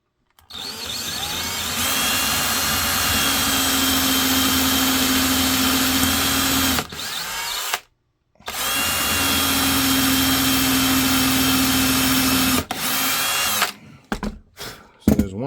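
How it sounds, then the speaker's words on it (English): A drill bit slightly wider than brad nails bores through holster foam on a foam press for an FN 545 holster, a loud sustained power-drill whine in two long runs of about six seconds each, separated by a short pause, then brief bursts at the end. "I'm going to drill through"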